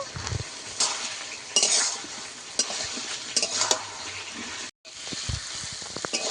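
A spice paste with water and tomato is stir-fried for a hilsa fish and elephant-foot yam dish, giving a busy mix of spatula scrapes, clanks against the pot and frying hiss, with a brief silent gap.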